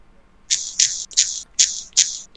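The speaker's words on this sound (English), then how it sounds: "Your keyboard makes horrible noises, by the way." A computer keyboard during an online tabletop game session gives off a run of five sharp, hissy bursts in quick, fairly even succession, loud and close, with no speech over them.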